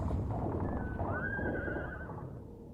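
A horse whinnies with a rising, drawn-out neigh beside a halted carriage, surrounded by a steady rumble of background noise and no speech.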